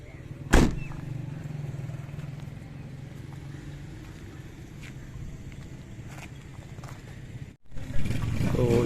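A Toyota Hiace van pulls up with a steady, close engine rumble and a low idle hum throughout, a sharp knock near the start and a brief dropout before the engine noise swells again.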